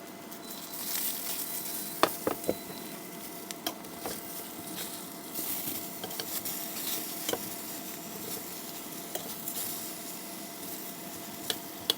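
Food fries in a pan during rainy-weather tent camping, a soft close sizzle broken by scattered clicks and scrapes of stirring, fairly quiet with no talking.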